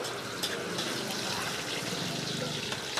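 Liquid pours steadily into a pot of chicken curry with a continuous watery splashing, close and fairly constant throughout.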